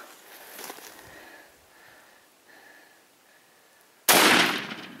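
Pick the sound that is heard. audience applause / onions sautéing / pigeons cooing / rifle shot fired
rifle shot fired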